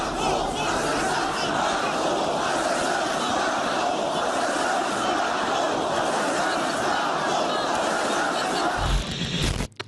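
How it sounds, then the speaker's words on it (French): A large crowd at a French political campaign rally for the Reconquête candidate chants a hostile slogan against Macron, a loud, continuous roar of many voices that holds steady for nearly the whole stretch before cutting off abruptly at the end. "On entend la foule scander Macron assassin"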